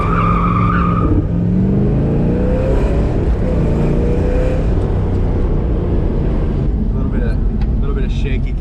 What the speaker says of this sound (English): I did a burnout.